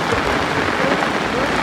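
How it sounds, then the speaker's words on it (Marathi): Heavy first-monsoon rain pours steadily at a crowded riverbank, a dense, loud, unbroken hiss close around with no pauses. "असाच जर पाऊस चालू राहिला"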